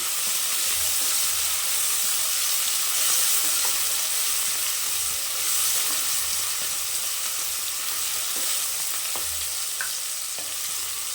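Shallots and green chillies sizzle steadily in hot oil for mutton curry, a continuous crackling hiss with occasional sharper pops and faint scraping stirs, no talking.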